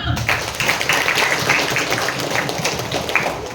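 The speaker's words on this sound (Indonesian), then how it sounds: "Tepuk tangan dulu." Applause from a school audience at a presentation at a junior high school, with a brisk scattered clapping running steadily throughout, fairly close and lively.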